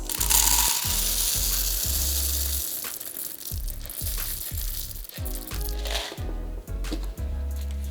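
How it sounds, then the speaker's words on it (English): A commercial grinder crunches Kenyan coffee beans in a processing room, a loud rhythmic series of grinding pulses over a steady mechanical whir, with no talk. "we do fine grind where we're going to grind with our grinder there"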